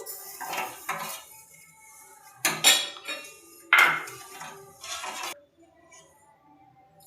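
Seviyan kheer being stirred in a pot over a low flame, a spoon scraping and clinking against the metal in scattered bursts, with a few louder knocks and quiet gaps between strokes.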